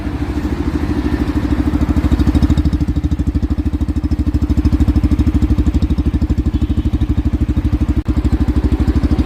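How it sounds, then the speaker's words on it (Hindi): A Yamaha FZX 150 cc motorcycle engine idles steadily, a loud, close, even chugging pulse that holds throughout with one brief dip near the end. "बाकी आवाज़ दिखाता हूँ बाइक की।"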